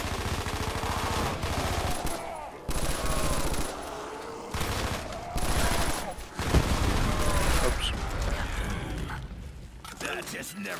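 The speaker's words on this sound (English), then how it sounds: "I got a QBBLSW. It's a LMG." Bursts of heavy light machine gun fire from a QBB LSW in a SpongeBob zombies video game, rapid sustained volleys broken by short pauses, loud and close, with players talking over parts of it.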